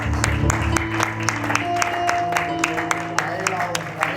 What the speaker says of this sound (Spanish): fuerte ofrenda de palmas al Señor